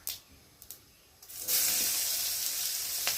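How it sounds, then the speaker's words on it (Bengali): Chopped onion drops into hot oil with browned whole cumin, starting a sudden, loud, steady sizzling hiss that follows a few light taps and continues unbroken. "আর এখন দিয়ে দেবো কেটে রাখা পেঁয়াজ কুচি।"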